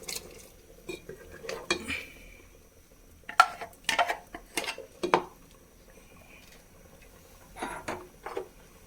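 A spoon scrapes and knocks inside a pot as ground coconut paste is stirred into onion sambar, with irregular clinks and scraping strokes in short clusters, close and fairly quiet.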